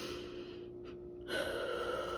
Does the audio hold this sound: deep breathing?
yes